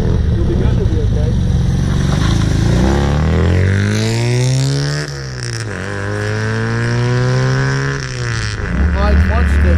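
A 1967 MGB Roadster vintage racer pulls away hard, its loud engine revving up through rising pitch sweeps with gear changes around the middle, close and continuous throughout.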